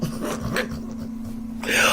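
A small sausage dog gives a brief, faint whimper or yip near the end, over a steady electrical hum and low room noise.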